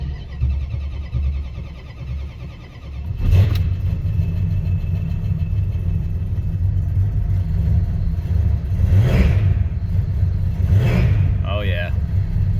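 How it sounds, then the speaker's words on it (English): A Dodge Charger engine fires for the first time on new Holley Sniper injectors and settles into a loud, steady rumbling idle with a few blips, while a person talks over it. "So we got the new injectors in. This is the first fire."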